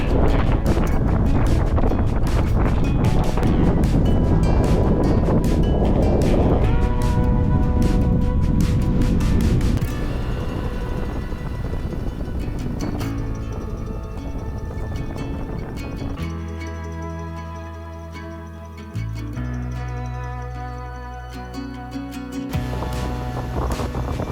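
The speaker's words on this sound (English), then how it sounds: "I do not like the prairie headwind." A prairie headwind in Alberta buffets a cyclist's microphone during bikepacking, producing loud, continuous rumbling gusts throughout with some steady tonal hum in the later part.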